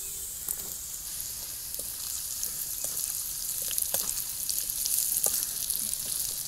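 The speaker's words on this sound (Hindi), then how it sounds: "हींग लहसुन और सरसों को हमने 2 मिनट तक पका लिया है। तो अब इसमें हम डाल देंगे बांस का पुल्ला" Bamboo shoots frying in oil with asafoetida, garlic and mustard, a steady close sizzle and crackle that swells slightly toward the end, with occasional stirring clicks and no talking.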